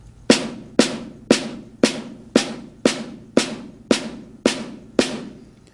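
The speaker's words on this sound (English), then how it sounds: "So your snare unaccented notes are going to sound like this." Ten soft, evenly spaced snare drum strokes, each a crisp tap with a short rattling decay, played alone at a steady, unhurried pace.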